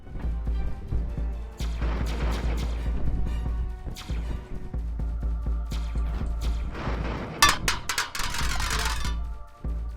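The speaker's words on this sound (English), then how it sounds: "Another missile." Missile strikes in the video game Stop the Saturnians sound as a run of loud crashing impacts and bursts over a steady low game hum, with dense clusters near the middle and end.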